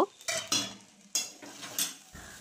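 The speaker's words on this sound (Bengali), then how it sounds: "ফ্রাইড রাইসের সাথে মশলাগুলো মাখিয়ে নেব" Homemade spices are stirred into vegetable fried rice in a kadai, with a spatula scraping in several quick, close strokes over a faint sizzle.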